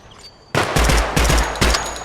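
5.56 rifle fire in Project Silverfish: after a quiet start, a loud sharp burst of shots cracks out in quick succession, four or five reports close together and near.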